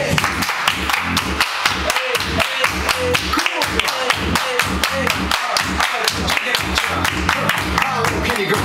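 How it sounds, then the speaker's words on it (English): Hands clapping in a steady, even rhythm among a group at a birthday dance party during a cha-cha line dance, with music and voices carrying underneath. "Everybody clap your hands!"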